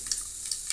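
Mustard seeds crackle and splutter in hot oil as a tempering for brinjal kosumalli, a short burst of faint, sparse pops over a steady sizzle.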